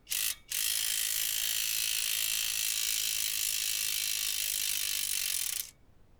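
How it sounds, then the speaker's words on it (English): An impact gun whirs and rattles on a brake caliper bolt of a GM SUV, one short burst followed by a sustained loud buzzing run of about five seconds, then stopping. "My impact gun sits just okay in there without touching it."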